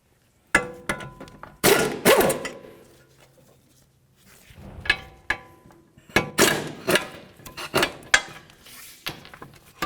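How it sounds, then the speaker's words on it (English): Wrench working loose the caliper bracket bolts on a Jeep Compass front brake, a run of sharp metallic clanks, thunks and ratcheting knocks in irregular bursts, close up with short pauses between. "And then we'll move along to removing our caliper bracket bolts."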